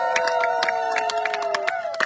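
A congregation at a baptism ceremony acclaims and cheers: bright claps and shouts rise in bursts over a loud, steady held tone that may be voices or an instrument.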